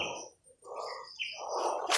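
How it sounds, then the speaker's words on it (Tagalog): A bird calls close by with loud, harsh chirping notes in a quick series, against quiet outdoor background. "Ang laking ibon yun ah."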